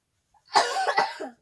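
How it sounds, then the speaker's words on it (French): One close cough that breaks into a few quick harsh bursts, then silence. "Je tousse beaucoup."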